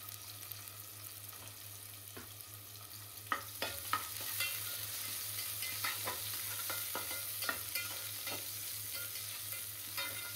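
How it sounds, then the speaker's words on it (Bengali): Onions fry in a pan on a home stove, a low steady sizzle broken by a series of sharp stirring scrapes and clinks, close and fairly quiet, with no talk. "এখন একটু পেঁয়াজ ভাজতে হবে"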